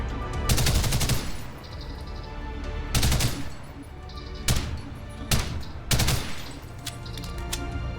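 Hip-fire gunshots from the Ghost in the Shell Online video game, rendered as several sharp separated bursts of rapid shots spaced a second or two apart, loud and close with no talking.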